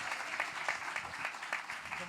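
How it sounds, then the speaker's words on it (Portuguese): Audience at a literature and poetry panel on an outdoor stage in Poços de Caldas giving a round of applause, dense steady clapping with faint voices underneath. "Uma salva de palmas para todos."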